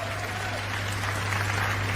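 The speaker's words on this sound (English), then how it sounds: "see how they clapping?" Audience clapping at a stand-up comedy show, a fairly faint, steady patter of many hands heard over a low constant hum.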